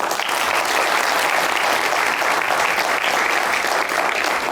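Dense, steady applause from a studio audience at an Azerbaijani TV comedy show, sustained and close for the whole stretch with no break.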